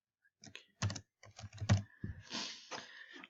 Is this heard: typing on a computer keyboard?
yes